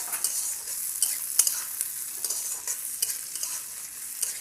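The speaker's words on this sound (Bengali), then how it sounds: "হালকা করে এটা ভেজে নেব।" Capsicum and green chili frying together in a pan for chilli paneer, a bright close sizzle with quick crackles and light stirring scrapes throughout, no one speaking.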